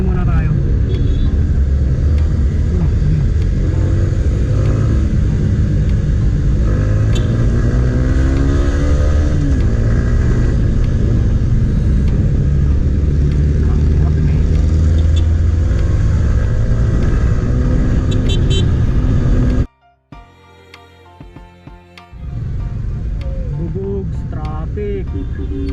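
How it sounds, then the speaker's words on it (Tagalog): Dense road traffic on Marcos Highway: car and motorcycle engines rumble and rev steadily and loudly from a rider's point of view, then cut out abruptly before a quieter, clicking stretch and the engine noise returning. "Traffic."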